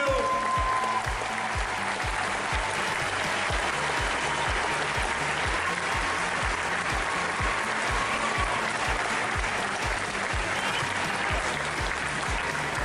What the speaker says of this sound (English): Please, huge round of applause